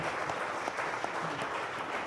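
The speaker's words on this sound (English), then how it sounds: "can we have a round of applause for the top 6 of this nation" Steady audience applause at the grand finale of a corporate business quiz, as the top six finalists are welcomed, a continuous dense clapping with no talk over it.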